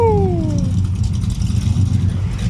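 An old El Camino at a small muscle car meet in Kamloops runs with a loud, steady low engine rumble after a brief falling whine at the start, close by and without talk.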